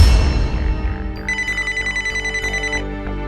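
A telephone rings with a rapid, trilling electronic bell, repeating in quick pulses, loud and close after a brief low rumble, in an Indian TV crime drama scene.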